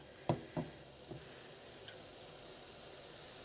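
Beef frying in a pan for stew gives a steady, fairly faint sizzle, with a couple of louder crackles and stirring bumps near the start.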